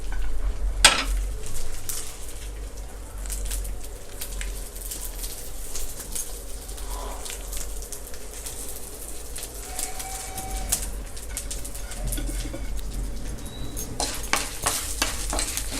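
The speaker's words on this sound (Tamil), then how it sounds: "இது நல்லா பொன்னிறமாக வர வரைக்கும் கிண்டிட்டுருங்க." Mustard seeds, cumin, chana dal and dried chillies frying in oil, a soft steady sizzle with sharp crackles and stirring clicks, fairly faint and close, with birds calling faintly in the background.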